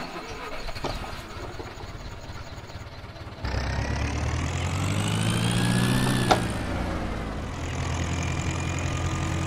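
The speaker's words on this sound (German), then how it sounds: "habe jetzt den Motor nicht ausgeschaltet" A motor in Farming Simulator 17 starts up and settles into a steady running hum, rising slightly in pitch, with a sharp click near the end; no voices.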